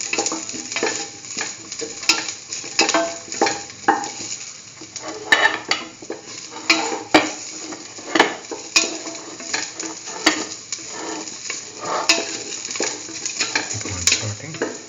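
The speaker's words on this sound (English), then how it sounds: "Keep on sauteing." A broccoli and potato mixture with green chillies sizzles in a pan while a utensil stirs and scrapes it in repeated close strokes, and clinks against the pan punctuate a steady frying hiss.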